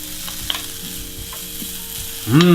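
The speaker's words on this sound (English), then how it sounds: "now I will put there the onions to fry them" Steady crackling sizzle of onions frying in a hot pan, with a few light clinks, and a brief whine near the end.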